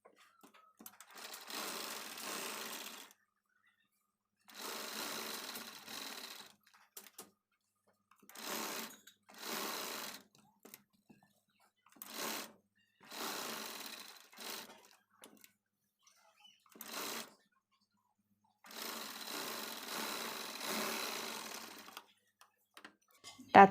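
Sewing machine stitching a blouse shoulder seam in repeated bursts, each run a few seconds long with brief pauses between, close and moderately loud, with no talking.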